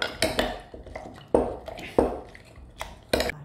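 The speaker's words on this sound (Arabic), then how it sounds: "غادي ناخذ هذه البلاصه باش نبشر النعناع" Mint leaves being crushed for an alcohol-free virgin mojito, heard as a few sharp, close knocks and thuds of a muddler against a glass, spaced unevenly with short pauses between them.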